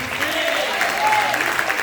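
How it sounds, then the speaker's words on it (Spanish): Church congregation applauding future preachers during a Spanish-language service, a steady wash of many hands clapping with a voice or sustained tone faintly running underneath. "Y aplauden por los futuros predicadores."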